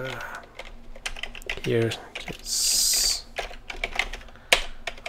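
Keyboard typing for a C programming switch-case example, a scatter of quick clicky keystrokes with a couple of brief louder mechanical bursts, close up, with a voice briefly speaking.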